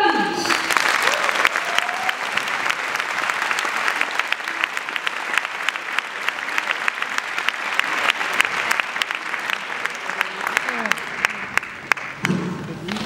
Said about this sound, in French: Je vous demande, s'il vous plaît, d'applaudir bien fort François Tamelly.